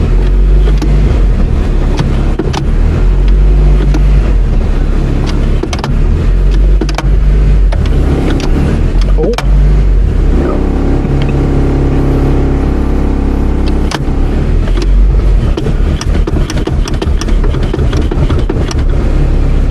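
The engine of a 1997 Toyota Corolla runs close by, shaking the car with a loud, continuous low rumble and some knocks and clunks from the cabin.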